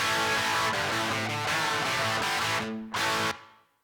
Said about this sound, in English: let's start by listening to the guitars without an impulse response block on it